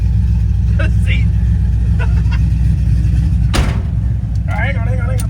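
A Honda car drives along with a loud, steady low engine and road rumble throughout, while people talk inside the cabin and a brief bump or door-like knock cuts in partway.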